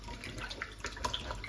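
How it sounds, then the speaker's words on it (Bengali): Salted fish rinsed under a running tap, water splashing steadily with small drips and sloshes close by, no talking. "লবণ দিয়ে মাছগুলো এখন ভালো করে ধুয়ে নিব।"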